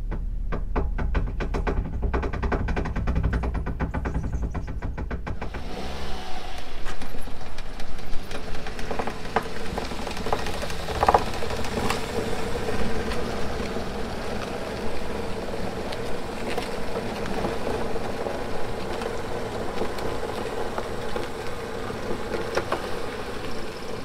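A 2009 Kia Sportage on its final drive before engine failure, a low, steady engine drone with faint knocking and road rumble throughout, preceded by a brief louder burst at the start.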